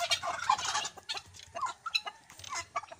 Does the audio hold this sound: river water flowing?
no